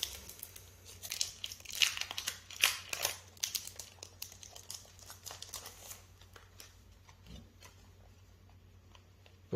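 Board game box for The Everrain being opened by hand, with close crinkling, tearing and rustling of packaging in irregular bursts that thin out toward the end; no talking.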